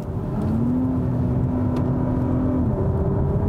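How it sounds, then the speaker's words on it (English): A 2021 Acura TLX Type S V6 engine hums loudly and steadily from inside the cabin on a track, its tone holding then shifting as it pulls along, with road rumble underneath. "And listen to that V6, good noise"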